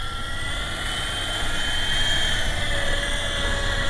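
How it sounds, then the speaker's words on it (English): An MJX T640 radio-controlled helicopter flies close by in an open field, its rotor and motor giving a steady, loud whirring drone with a high-pitched whine that swells slightly partway through. "this helicopter is just basically made for early morning and late evening"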